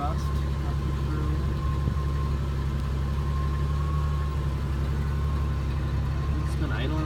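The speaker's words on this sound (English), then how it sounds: "It's been idling since I fired it up." A 1975 Ford F-250 pickup's engine idles at close range. A steady, even low rumble continues unbroken through the whole stretch.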